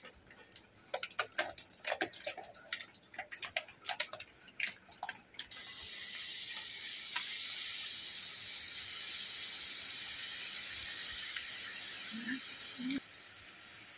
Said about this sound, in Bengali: এবারে তাহলে চলুন সরু এই ঝুড়ি ভাজাটা বানিয়ে নেব।